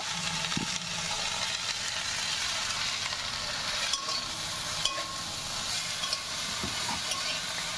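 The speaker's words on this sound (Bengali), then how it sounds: "তো প্রথমে বাঁধাকপিটা দিয়ে দিলাম।" Cabbage fries with onion and chili in a pan, a steady close sizzle with scraping stirs and a few soft knocks, no voices.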